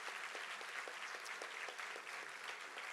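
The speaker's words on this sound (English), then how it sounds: "one more round of applause for our Doctor of Nursing Practice graduates." Soft applause from a crowd at a nursing school graduation ceremony, steady and even, heard from a distance at low volume with no voices.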